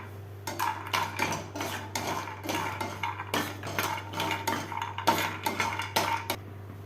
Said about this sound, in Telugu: ఈ విధంగా లైట్గా కలర్ వచ్చే వరకు మనం ఫ్రై చేసుకోవాలి